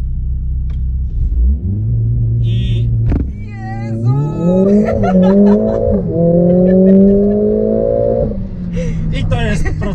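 A Mercedes-AMG A45 S performs a launch control start from inside the cabin: low idle rumble, then the engine revs up hard with rising, stepped pitch through gear changes, loud and close, with a brief voice in the cabin.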